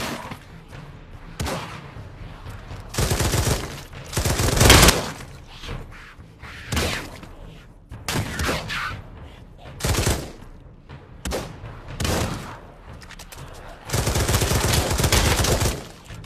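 Bursts of gunfire from weapons in the VR zombie game Pavlov, several loud volleys spread across the clip, the longest near the end, with quieter game sounds between.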